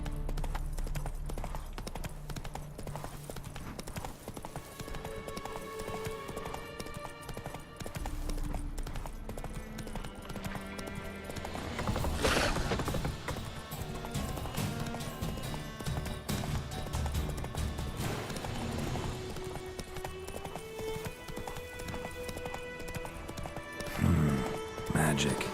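Geralt's horse Roach gallops in The Witcher 3, a steady clip-clop of hooves running on under game music and ambience, with a brief whinny and louder bursts near the end.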